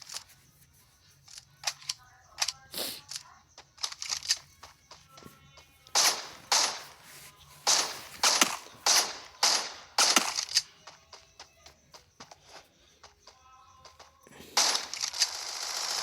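Sharp gunshots in a 2v2 shooting video game, a series of crisp cracks in short bursts and single shots with gaps between, loud and close, ending in a headshot.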